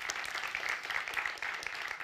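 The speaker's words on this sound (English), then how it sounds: "A warm round of applause again" Audience applause at a conference session on sustainable fashion, a steady, moderately quiet patter of many people clapping across the whole stretch, with no speech.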